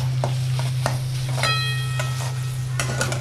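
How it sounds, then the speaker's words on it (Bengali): Masala spice paste fries in oil in a pan for dam aloo, a steady close sizzle under a low hum, with a utensil scraping and tapping at irregular intervals and a brief ringing clink in the middle. "আমি মশলাটা একটু ভাজা ভাজা করি"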